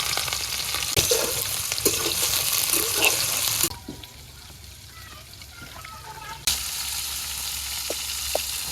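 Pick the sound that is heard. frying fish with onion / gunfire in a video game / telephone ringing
frying fish with onion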